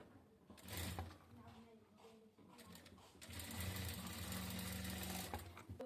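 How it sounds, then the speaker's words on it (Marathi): A sewing machine stitches the sleeves of a katori blouse with a steady mechanical whirr that starts, pauses and then runs continuously. Its motor hum sits close and fairly loud, with faint handling noises around it. "परत आपण व्यवस्थित गोलाईमध्ये थोडी स्लीव्ज शिवून घेणार आहोत."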